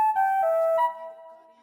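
A fractal flute synth preset from the Electra X semi-real bank plays a short, bright, sustained melodic line with a breathy onset. The notes glide between pitches, then fade out gradually.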